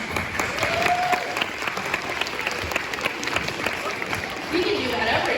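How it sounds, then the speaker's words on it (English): Concert audience clapping for a group of string players after an open-strings exercise, a steady dense wash of applause running throughout, with faint voices and a brief whistle-like tone mixed in. "please clap, they're awesome"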